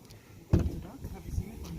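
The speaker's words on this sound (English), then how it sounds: "I'm gonna open your door." A 2020 Honda Civic Si door unlatches with a sharp thunk and swings open, followed by faint rustling, close and brief, with a voice murmuring nearby.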